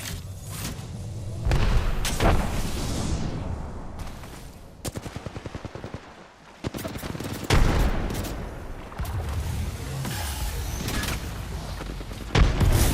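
Bursts of automatic gunfire and heavy booming shots in a first-person video game shooter, loud and close, coming in rapid volleys separated by brief lulls, with one stretch of fast rattling fire in the middle.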